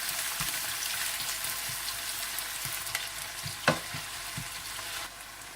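Chopped onions frying in oil until golden brown, a steady close sizzle with occasional soft stirring scrapes and one sharper clack partway through, no voices.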